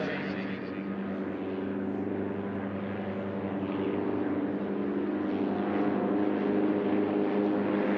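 A Legend Cub and a Husky STOL aircraft racing head to head in a STOL drag heat, their propeller engines droning loudly and steadily throughout under a commentator's talk.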